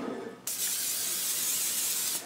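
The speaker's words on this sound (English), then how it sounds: "I'm gonna lightly spray my pan with coconut oil." Coconut oil sprayed onto a pan, a short pause followed by one sustained bright hiss of the spray lasting under two seconds, close and alone.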